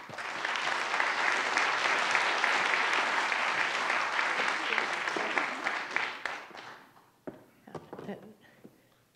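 Audience applause greeting Dr. Loftus at a science and society lecture, a dense sustained clapping that fills the room for about six seconds before thinning into scattered claps and fading out.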